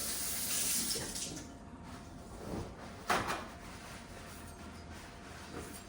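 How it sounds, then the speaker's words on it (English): Tap water runs over a chef's knife in a kitchen sink, a steady hiss of water with a brief clatter midway as the blade is handled, then the flow continues more quietly. "Wash our chef's knife a little bit."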